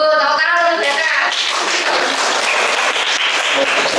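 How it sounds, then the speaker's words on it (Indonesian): Classroom applause, a dense steady burst of many hands clapping for several seconds, loud and close, with a brief voice at the very start. "Tepuk tangan ya kak"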